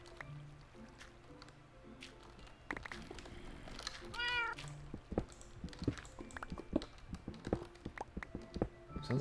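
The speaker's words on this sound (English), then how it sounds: "Cat is annoying." Minecraft cat meowing clearly in a short rising call midway, with squishy, drippy game sounds, footsteps, and a brief voice nearby.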